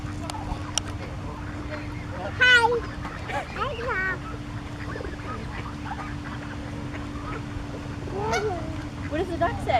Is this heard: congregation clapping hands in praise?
no